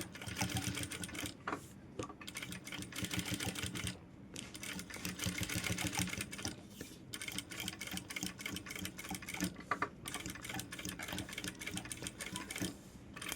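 Sewing machine stitching thread work on a blouse, running in a steady rapid rattle with brief pauses between bursts, close and continuous.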